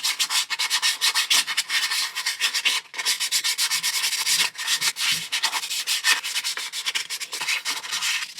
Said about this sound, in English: now I will sand it to make it a little bit smoother